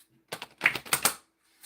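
A small deck of oracle cards being shuffled by hand, a quick cluster of crisp clicking, riffling taps with a brief flick at the end, close and dry with no talk.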